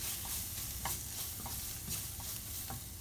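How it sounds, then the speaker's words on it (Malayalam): Spices, kasuri methi and garam masala are sautéed for a dhaba-style paneer masala, giving a continuous bright frying hiss with soft rhythmic scrapes of stirring repeating every half second or so. "ഇതെല്ലാം കൂടിയിട്ടൊന്ന് വഴറ്റാം."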